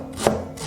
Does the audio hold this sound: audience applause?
no